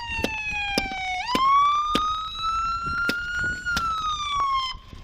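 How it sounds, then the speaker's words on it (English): A police siren wails close by, its pitch sliding and holding in long sweeps, while sharp knocks and clatters punctuate it. "Turn that siren off."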